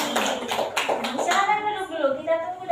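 Classmates clapping briefly in a school classroom during a geometry lesson, a few loose bursts of hand claps in the first second and a half, then a teacher's voice speaking close by.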